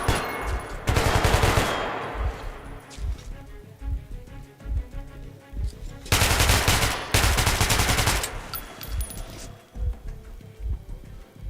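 Gunfire rattles in the video game Metro Last Light Redux in loud rapid automatic bursts, with a long volley early on and another later, between quieter scattered shots and game noise.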